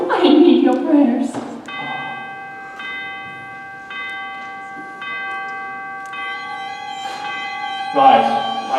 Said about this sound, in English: The cathedral bell summons us.